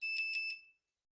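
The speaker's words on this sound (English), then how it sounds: "to turn off the pruner for storage, you just simply hold the switch down until it beeps" Cordless electric pruning shears give a short series of three quick high-pitched beeps as they switch off, a clear close electronic chirping that fades out within a second with no talk over it.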